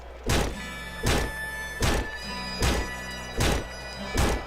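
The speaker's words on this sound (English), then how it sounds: "Let's get this sledgehammer and go to town a bit." A sledgehammer swinging and hitting in Nuclear Throne, heard as six heavy, evenly spaced thunks about once every three-quarters of a second, loud and close.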